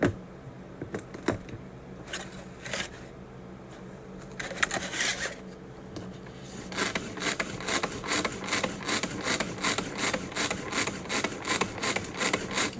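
Chocolate lava cake batter of egg, oil and water is stirred in a bowl, with soft scraping strokes that become a steady, quicker rhythmic swishing in the second half, close and alone without talk.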